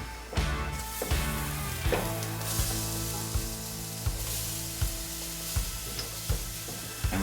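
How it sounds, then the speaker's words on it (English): Pepper and onion sizzle steadily in a roux for snapping turtle, with regular stirring scrapes and knocks of a utensil against the pan roughly every half second, close and clear with no talking. "So we're gonna add our pepper and onion in here."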